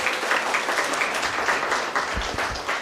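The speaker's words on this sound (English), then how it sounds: "we can also give a round of applause for our very able moderators" A conference audience claps for the moderators in a steady round of applause, with a few louder individual claps standing out near the front.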